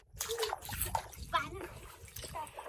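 Water thrown from a bucket during children's outdoor play splashes in several quick, close bursts, with children and adults talking and calling out over it.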